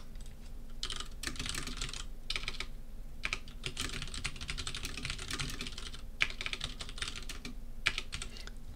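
Steady keyboard typing as lines of Python code are entered during a computer science lecture, continuous rapid key clicks in short bursts with brief pauses, fairly close and moderately quiet, no talking.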